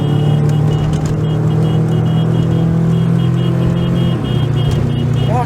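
Car driving on a rain-soaked highway, a loud steady engine and road drone with a constant low hum, a brief pitch drop near the end, and no talk.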